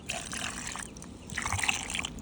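A small amount of drinking water trickles and pours from a container at a campsite, a soft, faint splashing flow lasting about two seconds, close by with no talking.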